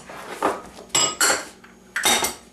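Metal spoon scraping and clinking against a bowl while dry gingerbread cookie ingredients—salt, baking soda, ginger, cloves and cinnamon—are stirred together, in four sharp bursts of clattering with short pauses between.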